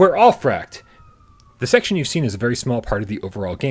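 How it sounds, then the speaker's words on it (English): A police siren wails faintly as a thin steady tone in a brief gap between stretches of someone talking, mostly buried under his voice. "Pardon the sirens."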